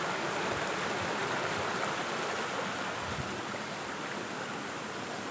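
A small cascade of very cold, clear mountain stream water at Kurangani near Theni gives a steady, even rushing hiss that stays close and constant throughout, with no voices.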